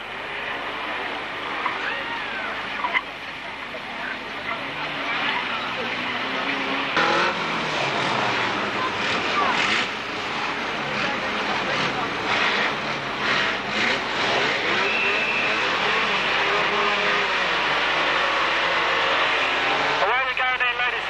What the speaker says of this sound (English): So the cars come to a stop following that 15-lap hot rod race.